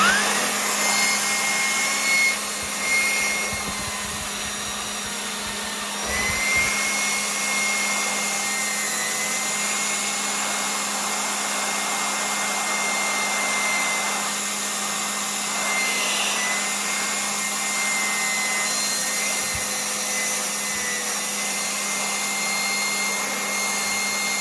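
Black & Decker cordless leaf blower running steadily throughout an air velocity test, a loud continuous whooshing roar with a steady motor whine, close and unbroken.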